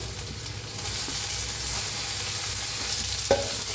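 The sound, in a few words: tomato added to onions frying in pan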